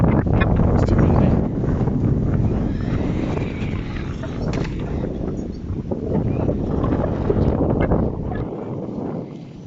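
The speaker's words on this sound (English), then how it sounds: "It's really, really windy out here," Strong wind at an outdoor skate park batters the microphone with a loud, constant low roar and rushing buffeting that rises and falls slightly over the whole stretch.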